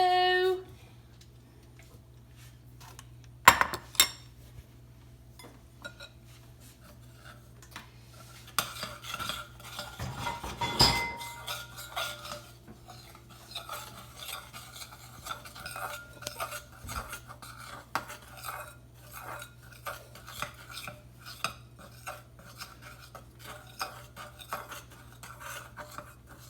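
Blue melted chocolate stirred in a bowl, a utensil scraping and clinking against the sides in uneven bursts, quiet and close, with a couple of sharper knocks early on.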